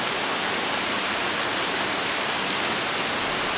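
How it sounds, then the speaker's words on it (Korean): Rushing water of the Suseong-dong valley stream in Seoul, a dense, constant broadband roar with no breaks, loud and close, with no voices. "시원한 물보라와 피톤치드가 여기서도 느껴지는데요"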